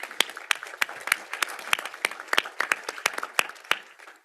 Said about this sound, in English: Also, a round of applause for Tobi.